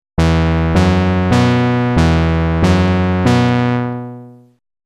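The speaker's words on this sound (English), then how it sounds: "So this creates more of a stab sound for the synthesizer patch" Retro analog-style stab patch from the Serum synthesizer, six bright, buzzy chord hits in a steady rhythm, loud and close, the last one lingering into a short fade.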